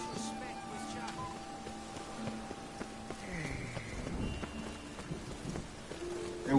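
Steady rain hiss from a rainstorm in The Witcher 3, with scattered soft low rumbles and faint tonal game sounds running underneath.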